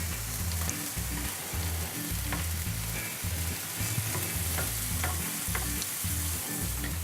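A cleaned fish fillet fries in margarine in a frying pan, a steady, dense sizzle and crackle that holds evenly throughout, close by with no talking.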